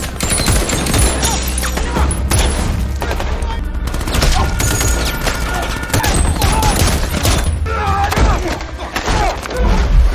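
Dense gunfire in an action film battle against terrorists: loud, continuous bursts of shots and heavy thuds overlap without pause, with crashes and impacts layered throughout.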